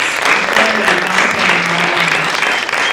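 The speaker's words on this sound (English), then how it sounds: "round of applause, please" A crowd applauds warmly, a dense burst of clapping filling the room for a few seconds.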